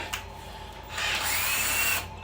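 A power drill whirs steadily for about a second while drilling bolt holes in a trailer, its motor pitch rising slightly under load, then spins down.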